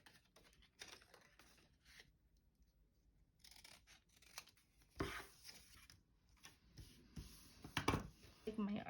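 Scissors cutting paper card for a graduation card, quiet irregular snips and rustling paper handling close by, growing more active toward the end.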